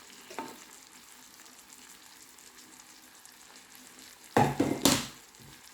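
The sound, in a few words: cauliflower rice frying in butter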